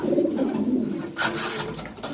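Pigeons at a pigeon farm in Dhanmondi, Dhaka, give soft, close, low cooing calls, a murmuring coo in the first second, then a brief rustle and further faint coos.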